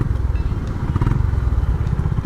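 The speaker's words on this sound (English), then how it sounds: "this CB350 RS also has a very likable sound profile" A Honda CB350RS single engine thumps in a rapid, even low beat while riding in traffic, loud and close, with faint traffic noise in the background.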